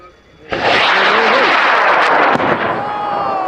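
A high power rocket fitted with an Aerotech M1800 motor ignites at a launch range, its loud roaring burn starting abruptly and holding steady for several seconds, with a sharp crackle partway through and faint voices underneath.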